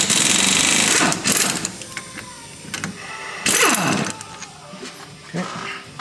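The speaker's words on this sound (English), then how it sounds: "Alright, I'm taking the axle nut off now." A 27 mm axle nut comes off a Mercedes W210 E320 front axle with bursts of a loud rattling impact gun, two main hammering runs separated by quieter workshop clatter.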